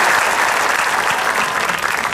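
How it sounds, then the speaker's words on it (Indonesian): Studio audience at an Indonesian television talk show breaks into steady, dense applause, a continuous wash of many hands clapping with no voices over it. "Tepuk tangan."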